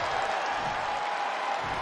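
Crowd cheering and applauding in the WWE 2K24 wrestling video game during a Money in the Bank match, a steady, dense roar of arena noise that fills the whole short stretch without breaks.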